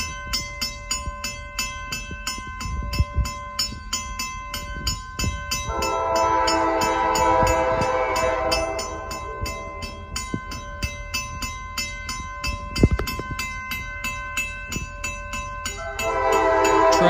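A St. Lawrence and Atlantic freight train rolls past a rural crossing in Maine at reduced speed, its horn sounding in long loud blasts over a steady rumble and clatter of rail cars, no talking.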